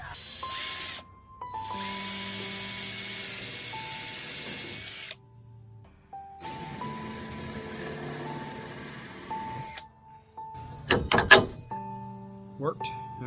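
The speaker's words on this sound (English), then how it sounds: "to drill the holes right here, all the way down." Holes are drilled for bolts on a DIY yard and dump trailer, two long steady drill runs whining close up and separated by a brief pause, then clattering bangs near the end as someone talks over the work.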